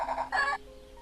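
A chicken in the point-and-click game Gobliins 2 lets out two quick, bright clucks, the second louder and longer, close and clean with no voice over it.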